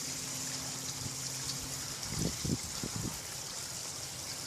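Steady trickle of water poured through a filter during beeswax cleaning, with a faint hiss and a few brief gurgling splashes partway through, close and fairly quiet.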